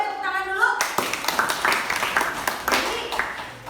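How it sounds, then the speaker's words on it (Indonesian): Classroom applause for a student's correct answer in an Indonesian language lesson, a burst of clapping from a small group of students with a teacher's voice briefly heard at the start. "Boleh tepuk tangan dulu."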